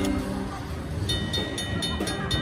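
An electronic train sound effect from a Cash Express slot machine plays, a rumbling rail clatter with bright repeated chimes over it, loud and continuous.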